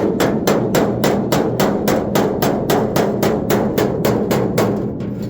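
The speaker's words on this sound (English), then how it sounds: "What I'm doing is the scratch marks is just using the corner of my hammer here" Steady rapid hammer taps, about three per second, working stretched sheet metal on the body of a 1959 GMC, loud, close and sharp, with no talking.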